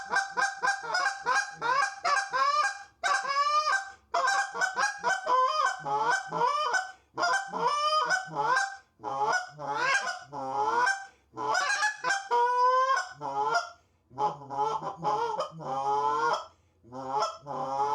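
A cream-colored G-force goose call with a copper band, a 50th anniversary model, blown alone in rapid runs of honks and clucks, loud and close with brief pauses between sequences.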